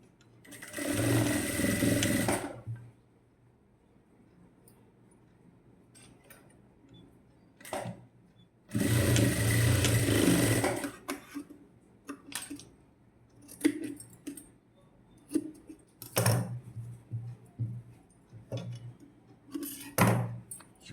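Sewing machine stitching the front and shoulder seams of a garment, two short bursts of rapid rhythmic whirring about two seconds each, close, separated by quiet handling of fabric and small clicks.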